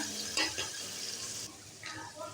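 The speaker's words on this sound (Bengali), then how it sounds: "এখানে আমি পেঁয়াজ কুচি দিয়ে দিব এই তেলে আমি রান্নাটা করব" Chopped onions hit hot leftover frying oil in a pan, giving a soft sizzle with a few quick stirring scrapes and clinks, close and fairly quiet, with no talk.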